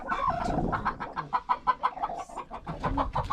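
A broody mother hen clucks close by in a series of short, rhythmic, repeated clucks, with a few softer, drawn-out calls mixed in near the start.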